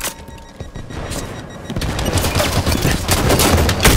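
Sustained video game gunfire from Halo 5, with dense rapid shots and booming blasts that grow louder and more intense after the first couple of seconds, with no talk over it.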